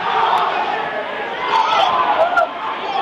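Crowd at a high school wrestling match between Marysville and Liberty, a steady roar of cheering and shouting swelling louder midway through, close and continuous.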